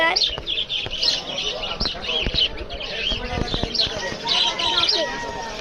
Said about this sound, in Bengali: বার্জি